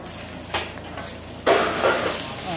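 Large prawns dropped into a hot pan with turmeric, a loud burst of sizzling frying with a couple of scraping stir and utensil clatters before it, crackling on steadily afterward.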